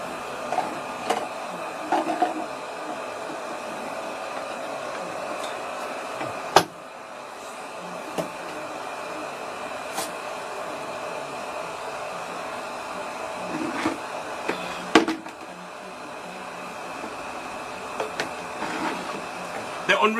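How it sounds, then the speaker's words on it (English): A hair dryer blows steadily at moderate distance while drying natural hair, a constant whirring hum broken by a few clicks and knocks. "The only reason I'm using a dryer is for you."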